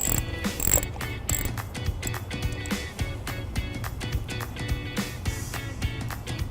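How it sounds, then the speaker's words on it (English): 10mm socket wrench ratcheting off the nut on the positive terminal of a 2013 Ford Escape car battery, a rapid run of close, crisp clicks in uneven bursts. "take a 10mm socket, carefully put it over the nut on the positive side of the battery and take it off"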